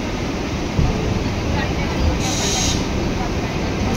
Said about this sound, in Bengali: শিয়ালদা ট্রেনটা ঢুকছে